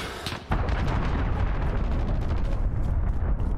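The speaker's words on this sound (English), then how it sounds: "Allied cruise missile" Cruise missile strikes in the shooter game Modern Warfare, a sudden heavy blast after a brief quieter moment, followed by a sustained rumbling barrage of explosions and crackling detonations that stays loud to the end.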